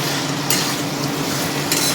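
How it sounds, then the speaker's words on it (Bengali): Hilsa fish heads fry in a pan as they are stirred, a dense, steady sizzle filling the space with a couple of brief scraping accents, close and continuous without any voices. "একটু নেড়ে চেড়ে নেবো"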